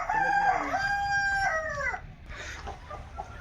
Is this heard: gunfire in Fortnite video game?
no